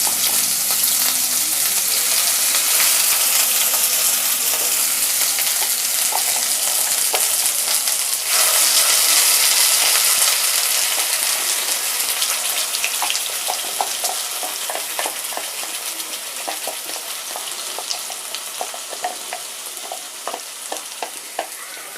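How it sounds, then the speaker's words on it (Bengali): Spice paste hitting hot oil for Punjabi chicken gravy, a loud dense frying hiss that fills the pan, then gradually settles into a crackling, spattering sizzle, with no voices throughout. "এবার আমি তেলটা গরম হয়ে উঠলে এতে দিয়ে দেব যে পেস্টটা বানালাম আমরা, সে পেস্টটা আমি অ্যাড করব তেলে"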